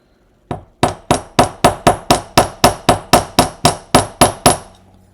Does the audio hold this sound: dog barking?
no